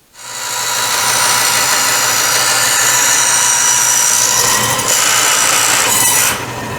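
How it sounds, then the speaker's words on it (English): A power tool trims excess plastic off a disc for a Wimshurst machine, making a loud, steady, close grinding whine that starts abruptly and runs for several seconds before easing off. "trimming off some of the extra plastic before we make it round is a good thing"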